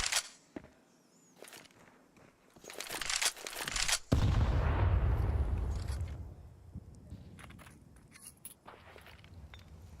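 Rapid gunfire from paired MP9 submachine guns in a Counter-Strike esports match, with sharp bursts early on and a loud sustained clatter around the middle that fades gradually, with no voices.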